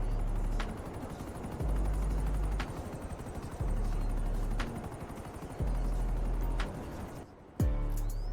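A helicopter in GTA Online, near a contested yacht, gives a steady rotor roar over a low engine drone, broken by sharp bursts like gunfire and a brief dip before the roar returns.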